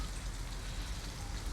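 Steady rain pours down in a video game scene, a dense unbroken wash of noise with no voices.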